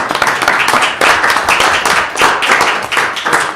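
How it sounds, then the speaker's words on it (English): A crowd at a city council meeting claps steadily in sustained applause, dense and fairly loud, with no pauses throughout. "I think we should give them a round of applause"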